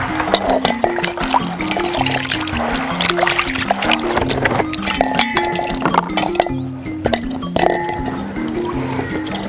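Water is poured and splashed while agira husks are filtered by hand in an outdoor African setting, with steady trickling, sloshing and light clinks of vessels alongside a rhythmic plucked melody throughout.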